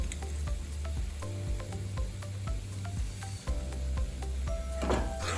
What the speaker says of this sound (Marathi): शेंगदाण्याचा कूट टाकल्यानंतर मी 2-3 मिनिटं परतून घेतले.